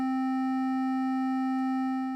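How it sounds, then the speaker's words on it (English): A modular synthesizer mixes a sine wave with a triangle wave into one steady tone. It is a strong, sustained pitch with bright overtones stacked above it, held evenly throughout and fading slightly at the very end. "So now I'm mixing the sine wave and the triangle wave,"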